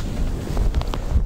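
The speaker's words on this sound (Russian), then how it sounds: "Ветер сегодня ужасный на улице" Strong wind buffets the microphone in a loud, continuous rumble with gusty bursts outdoors.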